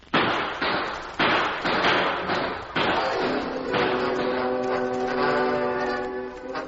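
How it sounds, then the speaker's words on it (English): Sharp gunshot bursts from a radio drama shootout, several loud cracks in quick succession followed by a sustained ringing tone. "We'll have to be careful. Start shooting, Chick."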